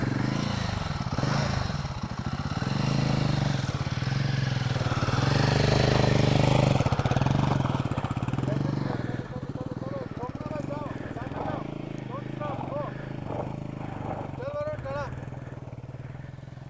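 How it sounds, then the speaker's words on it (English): A motorcycle rides over a rough, stony road on the way from Bengaluru to a temple. Its engine drones loudly and continuously throughout, with voices talking over it. "Bike is capable enough, Arun."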